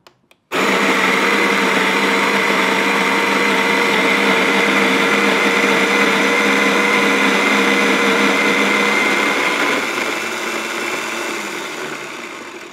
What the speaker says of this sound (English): If you were to grind 50 grams of coffee, like I'm about to do